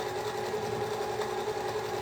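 A sewing machine runs steadily, stitching quilt seams crosswise a quarter inch beside a marked line, giving a continuous close motor hum with a fine rapid needle patter and no talking.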